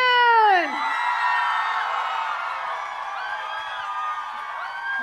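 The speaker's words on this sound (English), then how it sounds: "So, applause for Weijun!" An audience at a Samsung Galaxy launch party cheers for Weijun with a loud, high rising whoop and sustained shrill screaming and cheering from the crowd, holding steady for several seconds.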